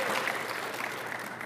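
Audience applause at a conference session fills the whole short stretch, a dense, steady wash of many hands clapping at moderate volume.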